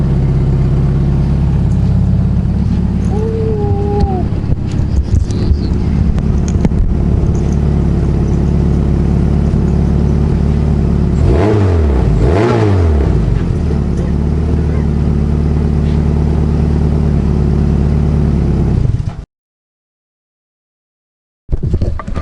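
Turbocharged all-wheel-drive Honda Accord with a freshly fabricated exhaust, its engine droning steadily with a rise and fall of revs midway, loud and close, then cutting to brief silence.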